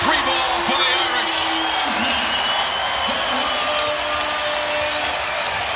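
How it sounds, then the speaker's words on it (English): A college basketball crowd at a 2018 Boston College vs. Notre Dame game claps and cheers in a steady, dense roar throughout, with commentators talking over it. "Crowd getting into the game now"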